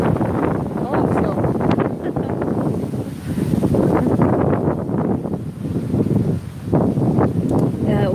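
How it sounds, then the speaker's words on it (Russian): Wind blows across a microphone outdoors, rough low buffeting gusts that rise and fall throughout while a person keeps talking underneath. "здесь ветер поднимается"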